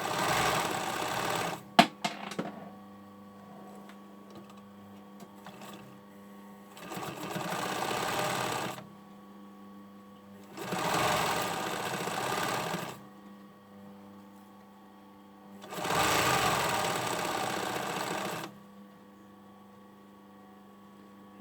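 A sewing machine stitching the side seam of a hoodie made from a Burda 6315 pattern runs in four separate bursts of steady whirring over a constant mains hum, with quiet gaps and a few clicks in between.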